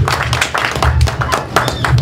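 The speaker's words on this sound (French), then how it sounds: "on peut quand même l'applaudir" Scattered clapping from a small audience at an UDPS party anniversary gathering in Canada, uneven bursts of hands with a voice speaking over them.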